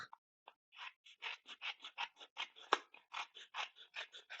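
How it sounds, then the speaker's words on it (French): Scissors snip through an adhesive sheet slightly longer than A4 on a craft worktable, making a quick, steady run of about twenty crisp, close cutting strokes. "j'aurais dû recouper la feuille d'adhésif. Je vais la recouper tout de suite"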